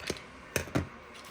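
Scissors make a few crisp, close snips through the stems of a damaged houseplant, three sharp clicks within about a second, quiet and with no talking.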